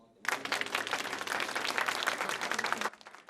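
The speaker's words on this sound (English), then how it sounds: "A sigh of relief and applause as Japan becomes the 5th country in the world to land on the moon." Applause breaks out in Japan's lunar mission control room as the uncrewed moon lander touches down, a burst of dense clapping that starts abruptly, holds steady for under three seconds and stops.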